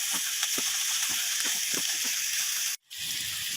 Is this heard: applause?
no